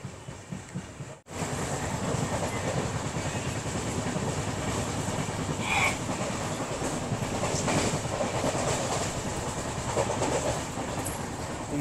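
The Kanyakumari-Pune Express passenger train rolls along the rails with a steady rumbling clatter from inside the carriage, loud and continuous after a brief quieter moment at the start.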